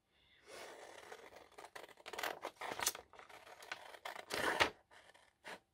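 Scissors cutting pictures of watches out of magazine paper, a close series of crisp snipping and rustling strokes in irregular bursts with short pauses between cuts.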